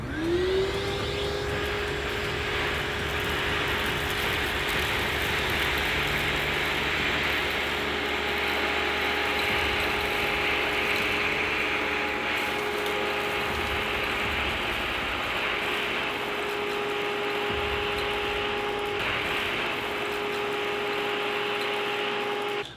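A Tornado CV 30 vacuum fitted with its wand sucks up rock salt against an edge, its motor spinning up and then holding a loud, steady whine with a gritty rattle throughout.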